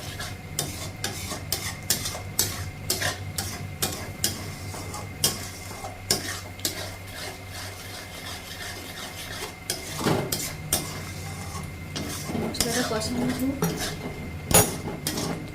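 Butter mushroom masala being stirred in a pan, with repeated scraping and clinking strokes of a spoon against metal over a light sizzle, steady and close throughout.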